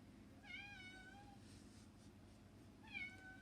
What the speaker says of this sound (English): My cat's saying hi.